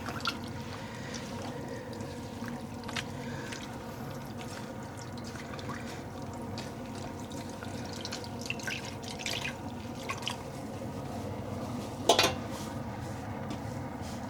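Water dripping and trickling from wet yarn skeins squeezed by hand and laid lengthwise into a dye pan, a faint steady patter of drips close by with one brief clink near the end.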